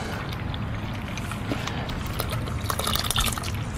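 Wort trickling steadily out of the grain bed during sparging, a continuous soft liquid run with light drips and splashes throughout, fairly close and alone with no talking.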